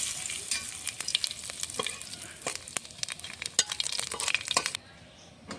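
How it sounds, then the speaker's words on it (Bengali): Bay leaf, black cumin and whole cumin crackle in hot mustard oil as a tempering, a dense close sizzle with sharp pops scattered throughout, cutting off abruptly near the end. "ফোড়নে দেবো তেজপাতা, হালকা করে তেল দিয়ে দিয়েছি, সর্ষের তেল, তেজপাতা, কালো জিরে, গোটা জিরে দিয়ে দেবো ফোড়নে।"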